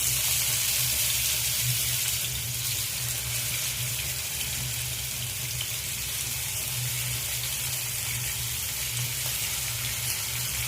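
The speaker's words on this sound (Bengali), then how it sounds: "তেল গরম হয়ে গেছে। এবার আমি মাছগুলো ভেজে নেব।" Rohu fish frying in hot oil left over from frying onions, for a rohu korma: a steady close hiss and crackle of sizzling runs throughout, with no talking.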